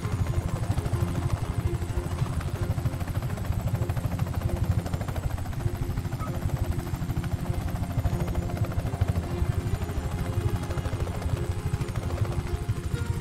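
A helicopter flies in the video game Just Cause 3, its rotor giving a fast, even throbbing chop with a constant engine drone throughout, close and unbroken.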